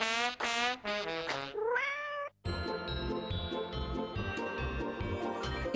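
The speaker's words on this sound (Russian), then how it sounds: "сейчас давай попробуем пристроить в чьи-то заботливые и нежные руки маленького котеночка" A small three-month-old kitten meows several times in quick succession, loud and close. Music then takes over for the rest of the stretch.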